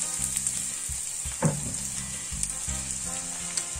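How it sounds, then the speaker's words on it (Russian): Chopped onion sizzles in a pan alongside carrot and pepper for a tomato meatball soup, a steady close frying hiss with light stirring clatter and one brief scrape near the middle. "Лучок начал прижариваться."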